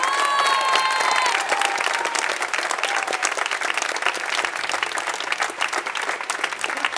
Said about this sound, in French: un tonnerre d'applaudissements aux FNOU